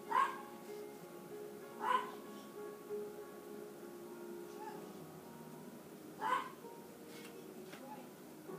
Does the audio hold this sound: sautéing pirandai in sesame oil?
no